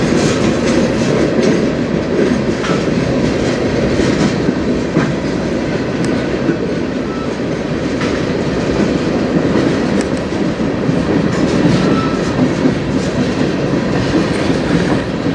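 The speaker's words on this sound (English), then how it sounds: "This is also one of the snail trains, we call them, because it's very slow for the first while." A slow freight train on the Strathroy Sub near Sarnia rolls past close by, a continuous loud rumble with faint wheel clatter throughout and no talk.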